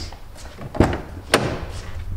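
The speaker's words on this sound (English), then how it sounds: "I'll let you do the honours opening the door" Two sharp clunks of the door of a BMW E36 Compact, a moment apart, with a faint rustle of movement around them and no talking.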